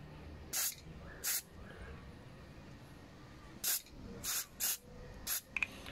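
Carburetor cleaner sprays into a Ryobi RTL25GMCS string trimmer carburetor in about six short, sharp hissing bursts, spaced irregularly, close by over a faint background hum.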